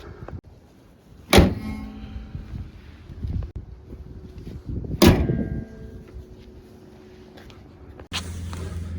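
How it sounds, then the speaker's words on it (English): A car hood slammed shut after covering a battery's positive terminal during a jump start, heard as two loud, sharp thumps a few seconds apart, outdoors with light wind and no talking. "Now we can safely close the hood."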